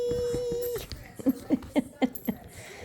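A puppy gives a run of about five short, high whimpers in an even rhythm, close and fairly loud, after a brief tone at the start.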